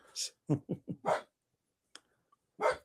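A long-haired dachshund barks and yips indoors in a quick burst of four or five sharp barks, then pauses before one more loud bark, with a soft whimper between.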